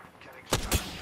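Two quick gunfire bursts from Apex Legends combat ring out close together, loud against quiet game ambience, with no talk over them.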